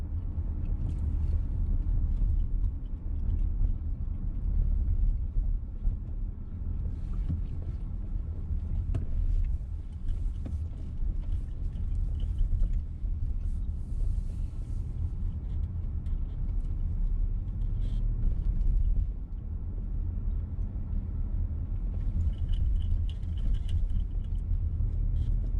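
Interior of a VW T-Roc on a driving test, with a steady low engine and road rumble throughout and faint wind noise, no talking.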